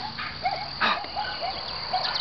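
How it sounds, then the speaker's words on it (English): Several dogs bark in short bursts at a distance on a farm, a few sharp yips scattered over steady background hiss. "Listen to the doggies bark."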